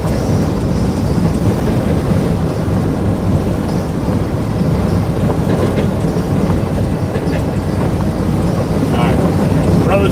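Strong storm wind buffeting at the Jersey Shore during Hurricane Erin, a heavy, continuous rumbling roar with gusty surges that sound almost like a passing train, with no voices.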